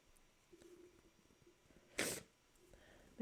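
A single sharp sneeze bursts out close by while someone winds dusty yarn right in front of their face. The surrounding room is quiet, with only faint background rustles.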